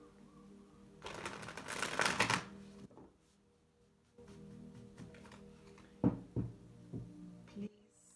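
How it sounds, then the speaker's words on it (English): A deck of tarot cards is shuffled in a brisk riffle, followed later by softer handling and a few light taps, close and fairly quiet. "I will start to shuffle the cards"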